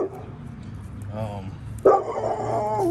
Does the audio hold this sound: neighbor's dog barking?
yes